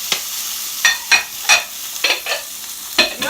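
Onion, garlic and scallions frying in a pan and being tossed, a soft sizzle broken by several sharp bursts of stirring and scraping, close up with no voices.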